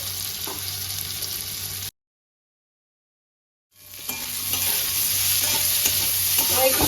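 Mango pieces with salt, stirred in a pan over a chilli and mustard-seed tempering, scrape and sizzle steadily up close, cut by a sudden stretch of silence before the stirring returns louder.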